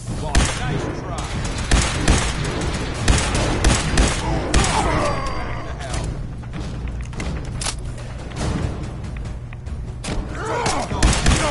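Scattered gunfire and heavy thuds in a Fallout 4 fight against mutants, irregular shots and impacts over a busy game soundscape with voices mixed in.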